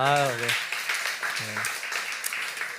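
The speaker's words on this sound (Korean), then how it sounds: "박수 한번 하겠습니다" Church congregation clapping, a scattered burst of many hands that continues steadily after a brief spoken reply at the start.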